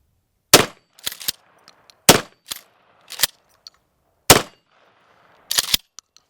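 A 12-gauge shotgun fires several sharp, loud blasts spaced irregularly over a few seconds, with quieter mechanical clacks of the action being worked between shots, outdoors and close, without talk.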